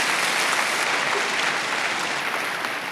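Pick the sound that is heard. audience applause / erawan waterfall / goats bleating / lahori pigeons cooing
audience applause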